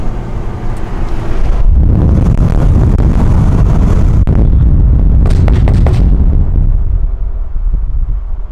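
A loud BMW E90 335i with an MHD Stage 2+ tune roars past with wind buffeting, followed by a burst of sharp exhaust pops and crackles as it lets off.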